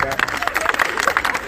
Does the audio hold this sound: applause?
yes